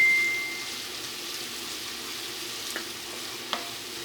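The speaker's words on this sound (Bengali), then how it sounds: "এবার আদা রসুনটা দেওয়ার পরে খুব ভালোভাবে কষাতে হবে" Ginger garlic paste frying in a pan while being stirred for fish korma, a steady soft sizzle with a couple of faint clinks of the spoon against the pan, no talking.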